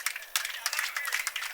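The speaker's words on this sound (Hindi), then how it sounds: "आप अपने लिए खुद एक बार तालियां बजाइए।" Audience at a mushaira, an Urdu poetry gathering, breaks into a dense wash of clapping that swells and dips in quick waves, fairly close and steady through the whole moment.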